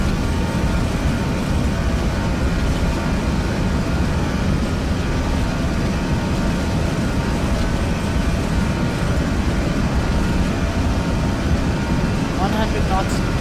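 Airliner engines spooled up to takeoff power on the runway, a steady, loud, broadband roar with deep rumble throughout; pilots speak over it.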